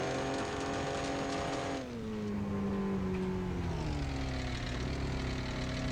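A lifted first-generation Dodge 12V Cummins diesel truck in the Offroad Outlaws game drives in rear-wheel drive, first gear, its engine droning loud and steady, dipping briefly in pitch before straining back up.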